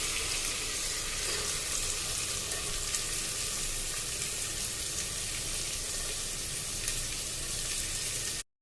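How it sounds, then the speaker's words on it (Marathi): Onion sizzling and frying in hot oil with curry leaves in a pan, a steady dense crackle running evenly throughout with no talk. "कढीपत्ता झाल्यानंतर आपण लगेच कांदा टाकून घेणार आहोत"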